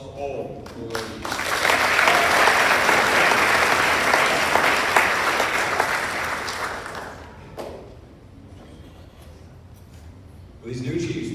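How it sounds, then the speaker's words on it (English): Broad applause from an audience at a high school JROTC awards ceremony, swelling into a steady roar of many hands and then thinning out. A voice speaks faintly near the start and again at the end. "Let's have a round of applause for all the ladies."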